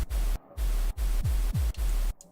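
A stereo pink noise sample layered into a dubstep production, heard as a hissing noise wash chopped into rhythmic gated bursts with a heavy low bass pulse and pitch-sweeping thumps under each hit.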